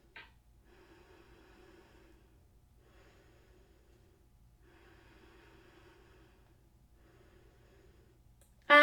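Slow, deep breathing during a yoga flow, four long audible breaths in and out, close and fairly soft with nothing else over them.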